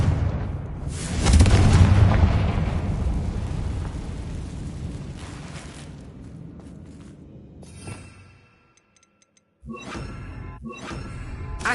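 The Confringo blast spell explodes in Hogwarts Legacy, a loud booming burst that swells and rumbles before fading away, followed by a short silence and a couple of sharper crackling game effects.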